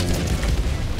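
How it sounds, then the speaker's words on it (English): An orbital rail cannon strike lands at Malevolon Creek in the video game Helldivers, a loud, deep, sustained boom filling the whole second with rumbling low-end force. "The orbital rail cannon was working."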